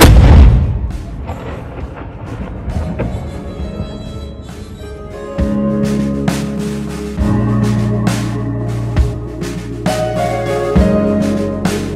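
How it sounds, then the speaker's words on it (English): A saluting battery cannon fires the evening gun at the open-air artillery museum in Valletta, Malta: booming blasts and heavy low rumbles strike repeatedly over a loud, continuous outdoor crowd din. "we are going to fire one of these 8 cannons in this open-air museum of artillery called Saluting Battery"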